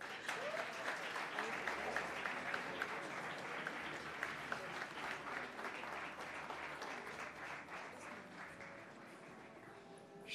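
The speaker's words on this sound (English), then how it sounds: "Another round of applause." A round of applause from an audience at a formal chairman's conversation event, dense continuous clapping heard at a distance and fairly quiet, lasting about ten seconds without talk.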